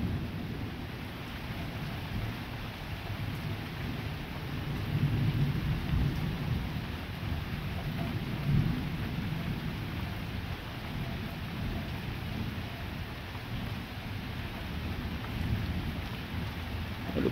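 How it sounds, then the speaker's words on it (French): A moderate-to-strong September thunderstorm close by: steady rain hisses throughout while low rumbles of thunder swell and fade several times, with no one speaking. "L'orage est littéralement devant nous là."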